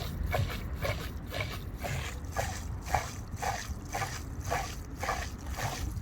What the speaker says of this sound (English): the water is just going up so far, falling back down, going up so far, falling back down. And it changes its pitch.